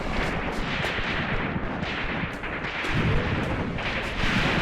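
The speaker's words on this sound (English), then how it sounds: "Our recon platoon over here. Getting shredded by machine gun fire." Machine gun fire in the Graviteam Tactics wartime strategy video game, heard as a continuous dense rattle of shots and distant booms in a loud battle.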